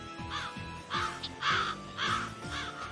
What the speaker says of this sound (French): Je n'aime pas ça, des oiseaux noirs, oiseaux de mauvais augure.